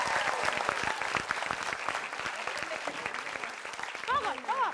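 A studio crowd at a comedy variety show bursts into fast, dense applause that fades as a voice starts speaking near the end.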